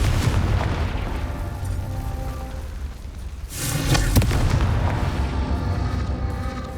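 Fiery spell blast from Confringo in Hogwarts Legacy, a broad roaring burst that swells midway through and rumbles on over a dense background of game sound, with no talking.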